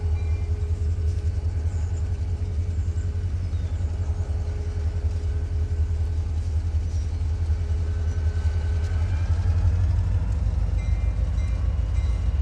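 A Norfolk & Western locomotive sits on a house track, its engine giving off a steady, continuous low rumble with a faint mechanical hum over it. No one speaks.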